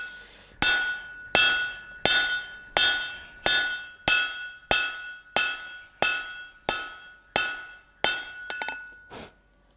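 A blacksmith's hammer forges a hot chisel on the anvil with about a dozen loud, evenly spaced ringing blows that each decay quickly. A short flurry of lighter taps follows before the sound stops.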